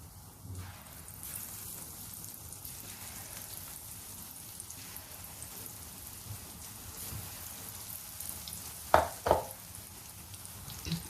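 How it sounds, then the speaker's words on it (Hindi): Besan pakoras, a Sindhi sanna pakoda batch, fry in hot oil over a full flame with a soft, steady hiss like light rain, broken near the end by a couple of sharper splashes and clatters. "इस तरह से आपको थोड़े बड़े पकोड़े डालने हैं।"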